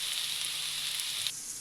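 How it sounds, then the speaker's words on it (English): Vegetables sauté in a pan with a steady, close hiss of sizzling that drops slightly near the end. "Oh, that sizzle."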